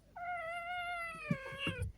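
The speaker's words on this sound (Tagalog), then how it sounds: "Ang makulit na pusa na si Yuri" Yuri, a cat, lets out one long, drawn-out meow close by, clear and fairly loud, followed by a few soft thumps of movement.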